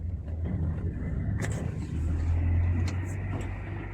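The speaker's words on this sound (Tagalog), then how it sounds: "Oh, may sasakyan, no? May sasakyan, oh." A car drives past close by on a street, its low engine rumble swelling to a peak in the middle and then easing off. A few brief clicks sound over the steady background.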